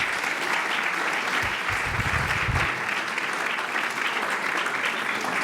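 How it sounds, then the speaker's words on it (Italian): Audience applause during a village festival stage presentation in Ponzano Veneto, steady sustained clapping from a crowd filling the whole stretch with no talk. "un applauso"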